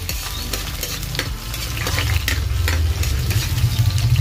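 Garlic sautéing in a pan for mung bean stew at an outdoor backyard cooking spot, a loud steady sizzle with stirring scrapes throughout, growing slightly stronger toward the end.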